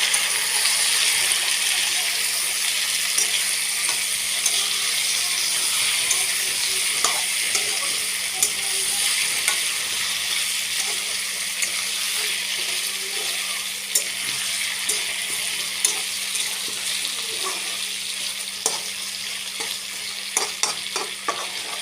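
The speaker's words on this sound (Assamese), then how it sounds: "এতিয়া কাটি থোৱা আলুখিনি দি দিম আৰু এনেকৈ লৰাই থাকিম অলপ সময়।" Cut potatoes hiss and sizzle steadily in a hot pan for a chicken dish while being stirred, with occasional scrapes and light clinks of a spatula. The frying stays loud and close throughout.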